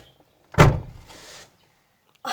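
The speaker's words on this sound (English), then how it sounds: "Close the door." A car door on a Toyota Hilux with a misfiring 3RZ engine shuts with one loud, close thud, followed by a brief rattle and a short second sound at the end.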